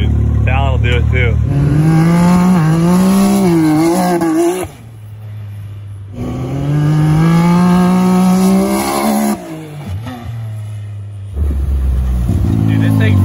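A Can-Am X3 Turbo RR side-by-side drives on a backyard dirt track. Its engine roars loud and close, rising in pitch through long revving pulls, then drops off briefly before climbing again.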